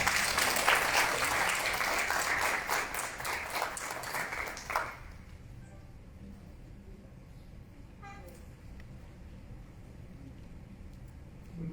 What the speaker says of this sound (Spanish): Le recibimos a nuestra mesa de honor con un fuerte aplauso.